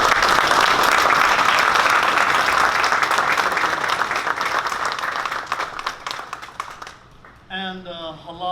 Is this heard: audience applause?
yes